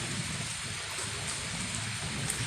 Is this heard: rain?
yes